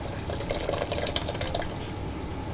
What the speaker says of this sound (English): so I'm going to put my Guinness in